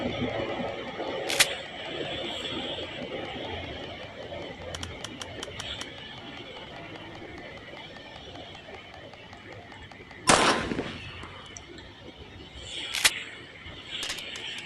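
Sharp gunshots in the video game Granny 2 crack out a few times, separated by seconds, over a low game background hum with a person talking.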